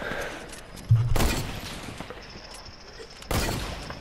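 Gunfire in Fortnite, with two sharp, loud bursts of shots separated by a few seconds and game noise between them, while Dutch-speaking players shout and talk.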